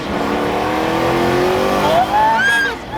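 A Lamborghini Aventador engine roars loudly and revs up, its pitch climbing sharply toward the end, heard up close.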